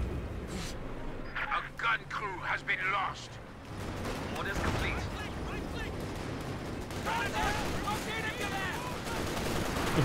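Suppressive machine gun fire from an MG34 in the World War II strategy game Company of Heroes 2, bursts crackling amid a dense battle of other gunfire and explosions, with a voice talking over the whole mix.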